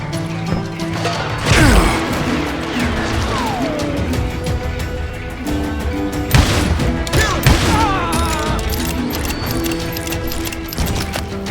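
Repeated gunshots and loud crashing impacts in the Wild West shooter Call of Juarez Gunslinger, with mechanical clatter and creaks around them and a swelling musical score underneath, dense and close.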